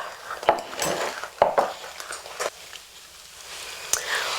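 A wooden spoon stirs stiff cinnamon biscotti dough in a bowl, making a rhythm of soft scrapes and knocks up close.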